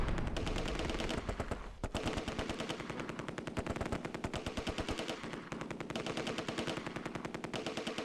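Dense, sustained machine-gun fire from a Close Combat II battle at Arnhem, with rapid repeated bursts filling the whole stretch, loud and close, with no voices.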